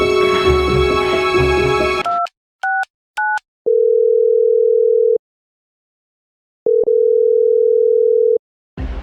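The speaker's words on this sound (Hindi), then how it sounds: "प्रिंस को देखता हूँ मिलाकर।" A telephone gives a few short dialing beeps followed by long steady tones with a pause between them, loud and close and with no voices, after a stretch of background music.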